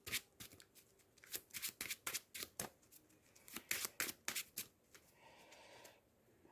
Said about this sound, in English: I shuffle the top card of the counter deck into my deck.